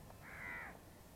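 A single harsh crow caw, brief and somewhat distant, over a faint background hush, as birds follow a flying V912 RC helicopter.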